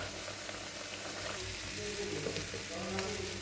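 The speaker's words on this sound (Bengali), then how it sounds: "মশলাটা ভাজা হোক।" A ginger, cumin and chili paste fries in a pan for a banana flower and split pea dish, giving a continuous, dense, moderately loud sizzle with faint bubbling and no voices.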